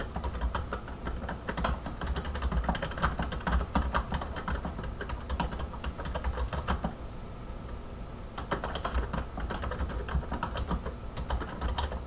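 Rapid, close clatter of typing on a computer keyboard in bursts, with a short lull before the keystrokes pick up again.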